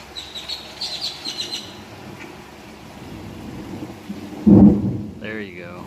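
Birds chirp over steady rain, then a loud, close roll of thunder rumbles low and heavy before fading into light bird calls.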